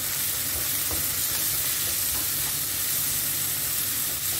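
Leftover french fries are stir-fried with salt, chili and cumin in a constant, close sizzle and hiss, with faint scrapes of stirring throughout and no talking.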